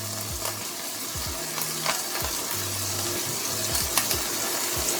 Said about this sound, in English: Gotta cook the celery and onion until tender.